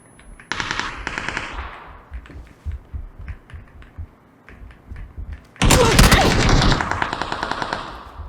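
AK rifle fire in a video game rattles out in two loud, rapid automatic bursts, a short one early and a longer one near the end, with quieter clicks and soft movement between them.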